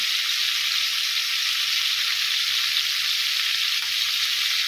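Scotch fillet steak sizzles steadily in a hot pan, a loud, continuous frying hiss with no breaks and no talk.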